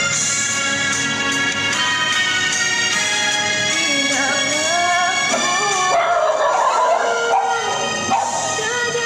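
A dog barks and yips over a loud, dense musical background, its calls rising and falling with a whimpering, howl-like quality.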